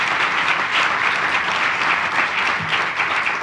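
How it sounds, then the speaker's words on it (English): A lecture audience gives dense, sustained applause, a full even wash of many hands clapping at once, loud and continuous, with no speech over it. "So let's clap again for 40 years"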